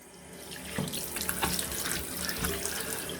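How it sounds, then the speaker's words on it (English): Tap water runs into a sink while a barber grooming tool is rinsed, a steady quiet splashing with uneven spatters as the tool passes under the stream. No one speaks. "Just going to rinse this gunk off."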